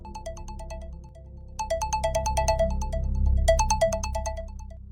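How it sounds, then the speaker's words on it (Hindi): A mobile phone ringtone plays a bright repeating electronic melody in bursts over a low rumbling background. "मोबाइल की रिंग बजी"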